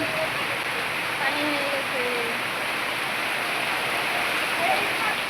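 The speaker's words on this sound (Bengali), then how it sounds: "দেখো বৃষ্টি একটু কমছে" Steady rain falls outdoors over a rural village home with a cracked mud house, a continuous even wash of drizzle-like patter with faint bird calls, fairly close and constant throughout.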